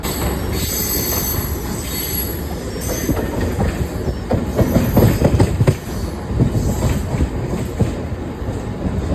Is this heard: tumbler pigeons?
no